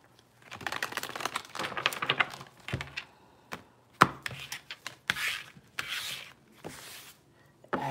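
A tarot deck is shuffled by hand on a table, with a run of crisp riffling and tapping bursts of card noise, close and fairly loud, and no talking.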